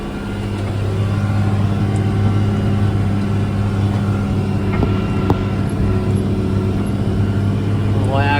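An old Challenger tractor drones steadily in second gear while pulling a 6-row corn planter, a loud, constant low engine hum with light mechanical rattle, nearby and unbroken.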